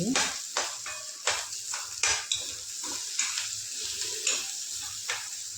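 Tomatoes sizzle and fry in a pan for a vegetable curry, with a steady hiss broken by repeated clinks and scrapes of a spoon stirring against the metal, close up.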